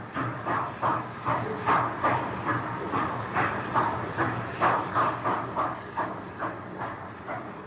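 A 10-wheeler steam locomotive eases into a station, its steady rhythmic chuffs pulsing evenly over a low rumble at a moderate distance, with no voices.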